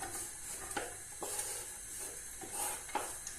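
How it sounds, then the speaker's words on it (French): Onions sautéing in a little oil in a pan give a quiet, steady sizzle, with soft stirring scrapes and a few light utensil taps spread through it. "Je fais revenir mes oignons."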